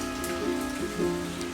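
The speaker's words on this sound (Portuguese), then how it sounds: "Olha só, não para de chover, gente, tá chovendo aqui já faz fazer 2 semanas, então a Carmela tem que ficar bem protegida" Steady heavy rain falling and pattering on a surface, a constant dense wash of drops heard close by throughout, with no talking.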